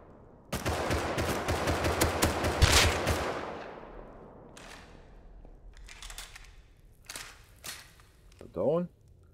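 Rapid bursts of gunfire from the survival video game Rust, heard in a military tunnel, with loud automatic volleys early on followed by scattered shots, while a voice talks over and around them.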